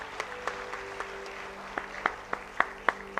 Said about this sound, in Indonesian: Yang setuju berikan tepuk tangan buat Tuhan.